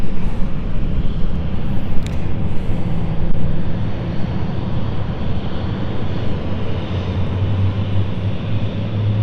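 An airliner powers up for departure at London City Airport, a loud, steady jet roar and rumble filling the air. It eases slightly over time, and no voices are heard.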